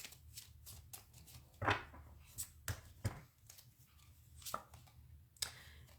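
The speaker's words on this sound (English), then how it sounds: "Let's give a little quick shuffle." A deck of tarot cards gets a quick hand shuffle up close, with a series of crisp, brisk riffles and flicks over a quiet room and no talking.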